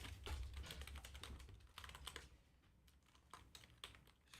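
Rapid clicky typing on an unfamiliar computer keyboard, quiet and close, with uneven bursts of keystrokes.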